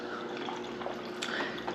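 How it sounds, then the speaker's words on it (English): Water filling a container, a faint, steady trickling hiss with a few soft drip-like splashes, heard alone without talk. "it's gonna fill up the water, of course"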